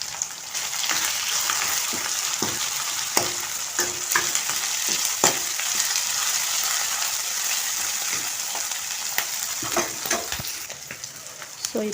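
Vegetables fry in hot oil with turmeric, giving a steady close sizzle broken by repeated scraping and clinking as a spoon stirs the pan.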